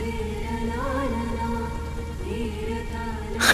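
Steady rain falls continuously as a broad, even hiss, with a low sustained tonal hum beneath it and a brief louder burst right at the end.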